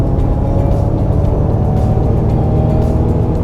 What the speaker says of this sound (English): Let's do another acceleration here.